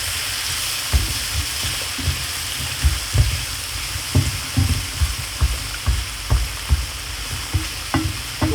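Cajun shrimp pasta base seasoned with Marsh Magic white pepper blend sizzles steadily in a pan, a constant frying hiss punctuated by regular stirring scrapes and knocks, close and fairly loud with no talking.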